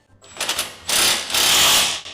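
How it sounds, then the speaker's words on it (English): A power drill boring into a car to mount a pit jack on a Peugeot 206 rally-raid build: two close, loud whirring bursts, a short one followed by a longer sustained run. "We'll just have to drill with a drill."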